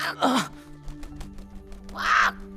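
Animated parrot in a pirate story letting out harsh, raspy squawks, one burst at the start and another near the end, close and fairly loud with quieter sounds between.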